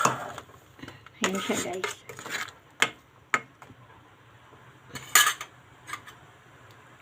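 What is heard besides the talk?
stirring shrimp sinigang soup in a pot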